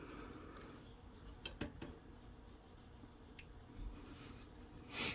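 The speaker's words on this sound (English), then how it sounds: "just pour it right over the chicken." Salsa is poured over chicken breasts in a crockpot, giving soft wet squishes and drips with a few light clinks of a dish or utensil, quiet and close, and a louder scrape at the end.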